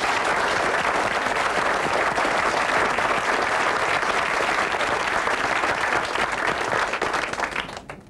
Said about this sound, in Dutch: Dames en heren, mag ik een hartelijk applaus bij wijze van dank voor Sylvia Millekamp alvast